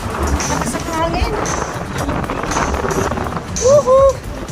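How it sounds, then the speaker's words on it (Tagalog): Strong gusts buffet the microphone beside a dancing fountain in Macau, a steady loud rumble with splashing water and excited voices over it. "Lakas ang hangin."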